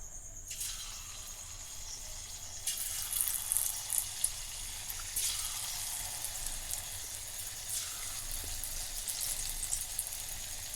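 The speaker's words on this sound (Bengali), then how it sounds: "সমস্তগুলো নাড়িয়ে চাড়িয়ে ভেজে নেব" Potato sticks frying in hot oil for French fries give a steady close sizzle and hiss, with louder crackling bursts as they are stirred, and no voices.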